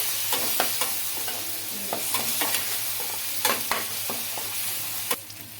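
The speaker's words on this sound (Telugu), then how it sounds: "అల్లం వెల్లుల్లి పచ్చివాసన పోయే వరకు అయితే ఫ్రై చేసుకోవాలండి" Ginger garlic paste with a pinch of turmeric frying in a pan for an egg masala curry: a close crackling sizzle with repeated scraping stirs, fairly loud and continuous, no talking.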